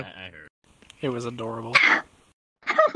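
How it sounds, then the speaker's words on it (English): A pet cat gives a short meow between bursts of nearby human speech in a room, one brief voiced cry amid chatter. "There, that was my cat"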